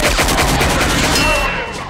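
Several sharp, loud gunshots crack in quick succession and echo, with a voice faintly mixed in.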